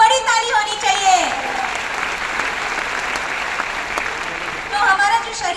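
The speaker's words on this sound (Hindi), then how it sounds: "कोम्बुचा के लिए एक बड़ी ताली होनी चाहिए" An audience at a DXN product seminar breaks into loud, sustained applause for kombucha. A voice speaks at the start and again near the end.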